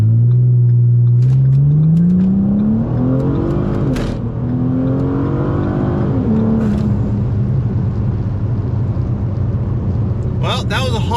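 A Ford Taurus SHO makes a hard launch on an open road, its engine roaring loud and close as the revs climb steadily through the gears over several seconds, with a clean rising drone and a brief shift dip.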